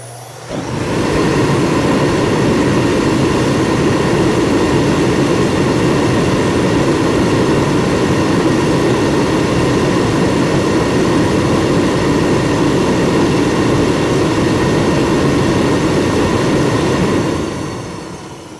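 Powerful electric space heater running, a loud, steady roar like a jet engine that starts abruptly, holds constant for many seconds and then cuts off near the end.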